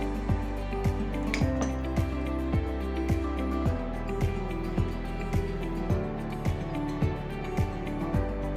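A spoon stirs mutabal with lemon juice in a bowl, producing a steady rhythm of repeated scraping clinks against the dish, close and moderately loud, with no talking.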